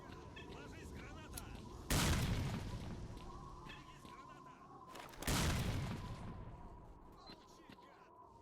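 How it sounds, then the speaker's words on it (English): Two heavy grenade blasts boom in STALKER: Lost Alpha, each a sudden loud burst that fades slowly, spaced about three seconds apart over quieter background noise. "Grenade."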